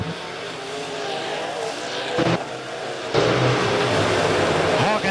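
Late model race cars on a dirt track at the Tony Roper Memorial, engines revving and surging past in loud bursts with sharp pass-by swells, an announcer talking over the racing.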